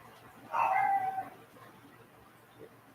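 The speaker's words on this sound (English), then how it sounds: "So I don't know what the fuck they're barking at." A dog gives one drawn-out bark or howl at moderate distance, lasting under a second, then the room goes quiet apart from a faint later sound.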